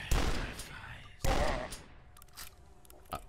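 Gunfire from a video game: two loud, close bursts of shots a little over a second apart, followed by quieter scattered pops and clicks fading out.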